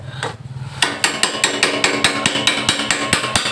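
Metal hammering drives a part into a Honda Scoopy-i scooter engine during a rebuild: after a short pause come about fourteen sharp, close, evenly spaced strikes in a quick steady rhythm.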